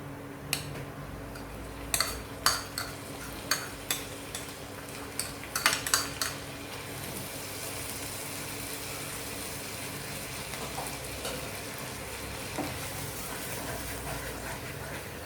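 A utensil scrapes and taps against a pan as grated coconut is mixed into a green gram filling for modak, sharp clinks clustered early, then a quieter steady rustle.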